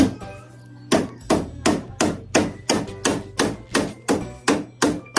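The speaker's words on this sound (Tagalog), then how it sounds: "pinupukpok na ng engineer natin yung ano, stante" Steady hammering on a wooden stake, about a dozen sharp, evenly spaced blows ringing out close by with no talking.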